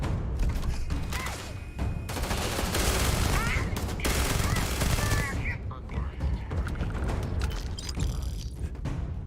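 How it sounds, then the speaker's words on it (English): Light machine gun firing in the Starfield video game, loud rapid bursts of automatic fire with mechanical clanks, continuing for several seconds with brief pauses between volleys. "It's an LMG, something like that."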